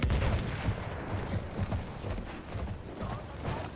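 Horse hooves clatter in the video game Battlefield 1, a dense, busy run of low thuds that goes on without a break, mixed in with game noise and what sounds like distant gunfire.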